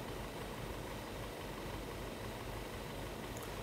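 A 2014 Audi A4 with low oil pressure runs at a rough idle, a faint, steady engine drone with a slightly uneven low rumble throughout.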